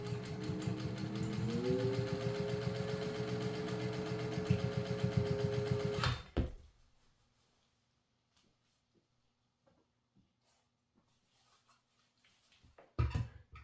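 A Singer 1200 sewing machine stitches with a fast, steady mechanical whir for about six seconds, then stops abruptly, leaving near silence with a few faint clicks and a brief clatter at the end.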